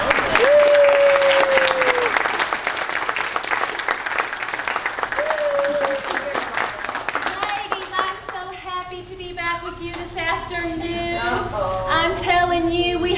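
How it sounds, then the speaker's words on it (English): A church audience breaks into sustained applause, dense hand-clapping filling the space, with a few voices and higher-pitched cheers rising over it toward the end. "let's give her a round of applause as she comes out."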